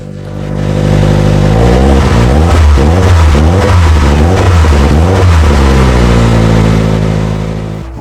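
A 1988 Toyota GT-Four engine with an exhaust leak turns over and catches after new fuel reaches it, then revs up and down in steady repeated surges before settling back to a loud, rumbling idle.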